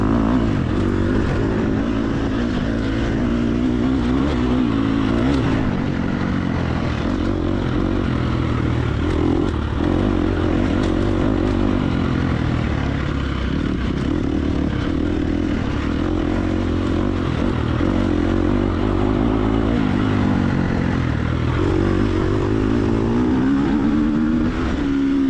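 Dirt bike racing in an off-road hare scramble, engine held near the rev limiter; a continuous, buzzing high-rev drone with wavering pitch runs for the whole stretch, loud and close, with no voices.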